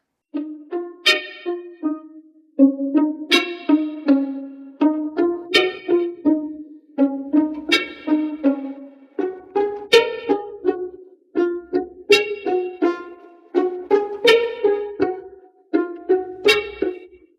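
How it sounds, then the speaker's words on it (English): Plucked pizzicato strings play a bouncy, repeating figure of short notes in a steady rhythm, with no voices over it. "there's a pizzicato string part that sounds like this"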